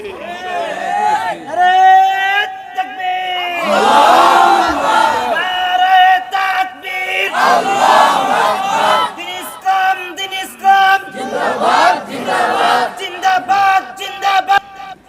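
A large crowd roars the takbir chant, Allahu Akbar, in loud unison bursts answering a single lead voice that calls out between the rounds of shouting.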